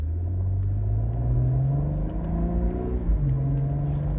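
Cadillac ATS-V sedan with a 465 hp engine accelerating hard away from a traffic light, a loud steady rumbling roar with rising revs and a gear change partway through, close and continuous.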